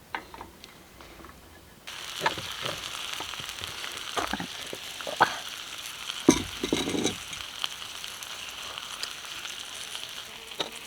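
Cheddar cheese sizzles and chars on a hot cooking surface at a campsite, a soft steady crackle that rises after a quiet start, with a few faint clicks and scrapes and no talking.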